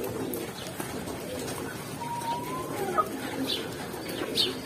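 Baku pigeons, including an adult male, coo and murmur softly in a loft, with low rolling calls and faint flutters over a steady background hum.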